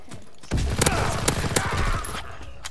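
Call of Duty WW2 gunfire: a run of rapid close shots with sharp cracks over a dense rumble, lasting about a second and a half before tapering off.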